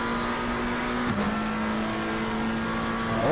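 Race car engines in a sim racing game at Misano: a loud, steady high engine drone with a downshift dip and climbing revs, other cars buzzing underneath.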